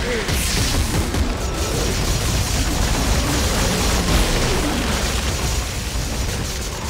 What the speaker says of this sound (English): La meg plukke bomba og bom!